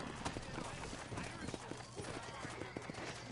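Horse hooves clopping on the ground while riding in the Red Dead Redemption game, a quick irregular clip-clop rhythm under game voices and background sound, fairly quiet overall.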